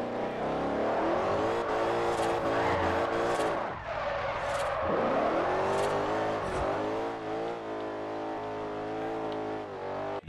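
A drifting car in a racing game slides with a loud, sustained tire squeal over a revving engine that dips briefly mid-slide and then climbs again, with no voices.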